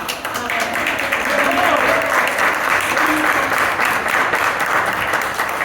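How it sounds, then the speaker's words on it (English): A crowd at an art exhibition event applauds steadily and loudly throughout, a dense wash of clapping from many hands. "Big round of applause first for Joe."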